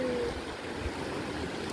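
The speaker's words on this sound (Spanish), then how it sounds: "Miren el río, ya va bajando." A river runs steadily nearby, a soft continuous wash of flowing water with no speech over it.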